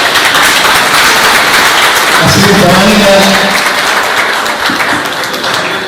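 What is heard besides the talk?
audience applause at an awards ceremony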